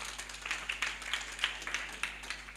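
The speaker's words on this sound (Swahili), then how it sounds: "tumpigie makofi mazuri." A church congregation at a live Sunday service claps together in a soft, steady patter, faint and somewhat distant, with scattered sharper claps rising over the crowd.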